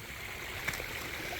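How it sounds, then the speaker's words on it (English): Water gushes into a koi pond in winter, producing a steady, fairly quiet rushing flow that continues throughout, with one faint splash partway through. "the water's just gushing from there. It's geysering."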